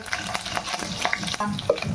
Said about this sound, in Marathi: सर्व मसाले आपण तेलामध्ये छान असे परतून घ्यायचे आहे